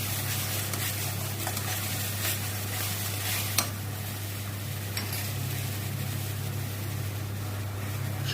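Spices fry with mustard paste, garlic paste and yogurt in a pan, a steady, even sizzle under a constant low hum, with occasional faint clinks of the stirring utensil and no talking.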